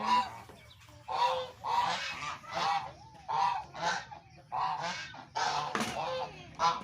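Muscovy (Barbary) ducks in a pen converted from an old chicken coop call in a series of about ten rough, honking bursts at an uneven rhythm, close and fairly loud against quiet background noise.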